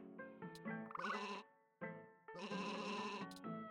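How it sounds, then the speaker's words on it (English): Sheep bleat in a video game, several loud, quavering calls with a short gap between them, and no other sound competes with them. "Just more sheep."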